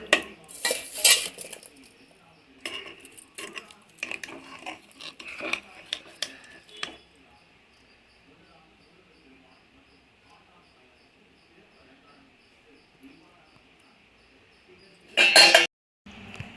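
A spoon stirs jaggery syrup in a metal pot for Thiruvathirai kali, giving a run of close clinks and scrapes. Near quiet follows, then one brief loud clatter.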